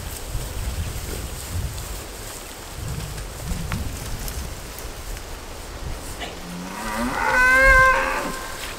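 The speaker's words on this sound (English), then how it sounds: "that's the sort of bull you want in the paddock" Cattle in a rural paddock low in steady wind, a clear drawn-out moo rising near the end of the stretch, fairly close and loud over the breezy background.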